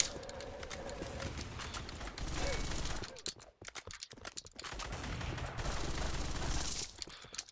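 Rapid automatic gunfire from a KRISS Vector submachine gun in the Roblox game Weaponry, gun game mode, arriving in dense loud bursts with a brief lull midway.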